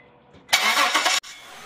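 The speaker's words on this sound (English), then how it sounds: "Next, I hop back into the car and start it." A car's engine starts on a ramp: a faint click and whir, then a loud cranking roar for about two-thirds of a second that cuts off abruptly and settles into a lower, steady idle.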